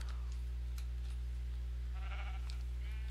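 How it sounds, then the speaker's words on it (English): A brown sheep in Minecraft bleats a few times, with a short wavering call near the middle and another toward the end, heard fairly faintly over a steady low hum. "Brown sheep!"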